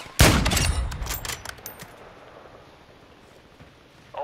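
Gunfire in the Call of Duty: Modern Warfare II video game, a loud close burst of rapid shots at the start that trails off into quieter echoing reports and low background rumble.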